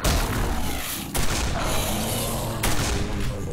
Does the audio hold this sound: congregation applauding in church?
no